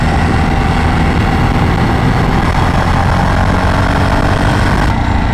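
A Jawa Perak motorcycle engine runs steadily while the bike is ridden on open roads, a loud, constant drone with no pauses.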